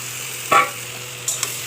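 Marinated mutton hits a hot pan with a brief burst of sizzling over a low steady hum, followed by a couple of small clinks and crackles.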